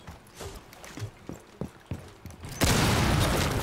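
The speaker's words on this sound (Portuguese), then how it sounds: "foi uma explosão ali" Scattered thuds and clicks of Rainbow Six Siege game action, then a sudden loud explosion that roars on as a dense, sustained rumble.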